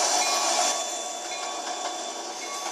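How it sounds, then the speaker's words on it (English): A train in the Trainz video game keeps running with a steady rolling rumble and hiss, a constant close mechanical drone with faint metallic tones and no talk. "we are gonna stop our train"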